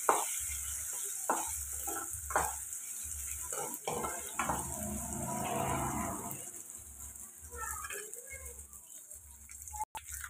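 Ingredients for an egg and dried fish curry fry in a pan, giving a steady, close sizzle with occasional clinks and stirring scrapes throughout.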